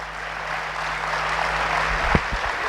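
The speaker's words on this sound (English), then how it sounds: "That requires an even louder cheer." A large audience in a grand hall cheers and claps steadily, a broad sustained wash of applause and voices with a couple of louder bursts near the end.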